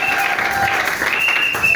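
A church congregation applauds during a French-language worship service, a dense, steady wash of clapping that stays close and loud throughout, with faint tonal ringing and voices mixed beneath.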